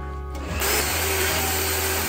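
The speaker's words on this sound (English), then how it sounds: "To avoid cracks, I'm pre-drilling." A power drill pre-drilling wood whirs steadily and loudly, starting up partway in and running continuously to the end.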